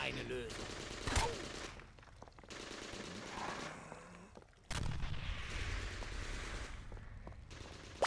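Gunfire in a World War Toons video game, with dense bursts of automatic fire and scattered single shots continuing steadily over a loud background of game effects.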